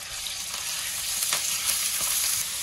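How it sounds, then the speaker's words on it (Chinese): Minced meat stir-fried in a wok, a loud continuous close sizzle with a few quick spatula scrapes and taps, no talking. "我们现在炒一下这个肉末"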